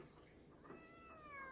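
A cat meows while someone holds her and gives her a pill, producing a faint, drawn-out cry near the end over low background noise.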